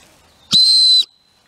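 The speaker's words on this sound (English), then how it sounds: "And on the end of the lanyard it's got a whistle," A single short, loud, shrill blast of about half a second comes from a small whistle on the end of a lanyard used for hammock camping gear, alone with near silence before and after.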